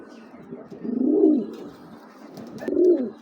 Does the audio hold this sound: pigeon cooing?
yes